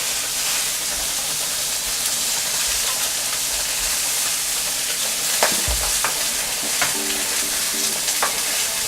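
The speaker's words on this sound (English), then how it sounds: "You want to give your salmon some space in the pan so everything cooks evenly" Salmon fillets frying skin-side down in a hot pan give a steady, dense sizzle and hiss throughout, with a few brief clinks and scrapes of utensils partway through.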